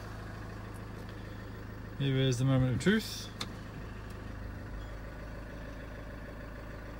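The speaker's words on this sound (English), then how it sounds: "Okay, engine running." A Range Rover Evoque idles steadily with a low, even hum the whole time, while someone speaks briefly over it near the start.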